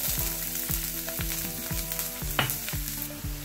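Onions frying in hot oil in a pan give a continuous close sizzle with crackling. A repeating low tonal pattern runs underneath, likely background music, with no speech.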